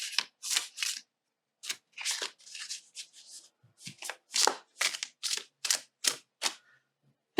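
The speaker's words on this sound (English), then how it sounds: "This is what the deck sounds like in overhand." Overhand shuffling of a new dog-themed tarot deck, a series of crisp, close papery riffles and slaps in short uneven bursts, separated by silent gaps and with no talking.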